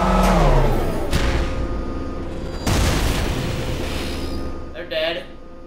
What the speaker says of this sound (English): We get to shoot as a tank.